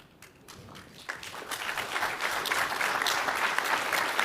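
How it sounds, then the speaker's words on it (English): An indoor audience at a fireside chat for security leaders bursts into applause that starts scattered and swells into a dense, sustained round of clapping. "Are you clapping because that was the end or because I said something good?"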